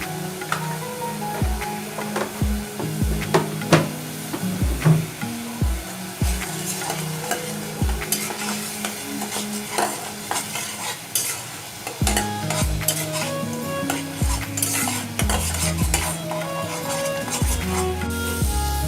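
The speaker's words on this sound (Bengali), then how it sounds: "ভালো করে কষাতে হবে যেন পেঁয়াজ বাটার গন্ধটা না থাকে।" Onion paste with turmeric and spices being stirred and fried in a pan for beef kofta curry, with repeated scraping spatula strokes over a steady close sizzle.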